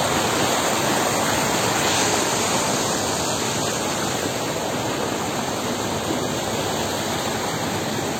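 A waterfall beside a temple pours in a constant, loud rushing roar of broadband water noise that holds steady throughout, with no talking.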